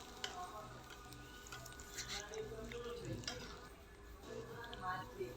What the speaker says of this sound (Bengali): এখন আমি একটা খুন্তির সাহায্যে হচ্ছে নেড়ে দিব।